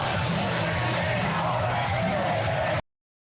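A huge crowd lined up outside a political rally in Penticton, British Columbia, a steady dense roar of many voices with yells and whoops, loud and continuous until it cuts off abruptly.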